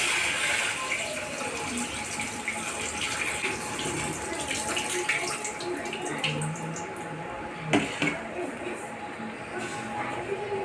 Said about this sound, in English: Washes them well.